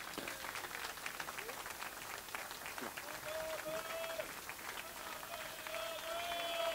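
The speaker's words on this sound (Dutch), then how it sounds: "Frans Teunis, geef een applaus." A crowd at a carnival concert in 2018 claps in a steady, fairly distant wash, with a voice and faint tonal sounds carrying over it throughout.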